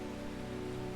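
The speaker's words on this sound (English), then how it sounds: "is it always raining in this game? It is not, but it is often raining" Steady rain in the video game Strange Horticulture makes an even, continuous hiss over a low, constant hum, with no talking.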